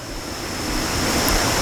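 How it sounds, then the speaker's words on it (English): Ocean waves rolling in a steady, broad wash of surf noise that swells slightly louder toward the end, continuous and fairly loud with no voices. "the deep roll of the ocean"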